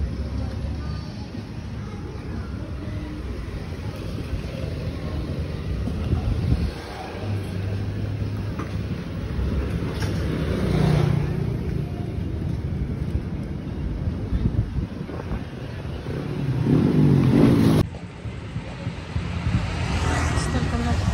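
Many cars move through Thai streets on Chinese New Year, with engines droning and swelling and vehicles passing close by. Wind buffets the microphone throughout, and the sound builds to louder surges near the end.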